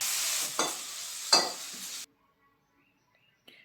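Finely chopped onions and spices sizzle and crackle in a hot pan with a few stirring scrapes, then the sound cuts off abruptly into near silence.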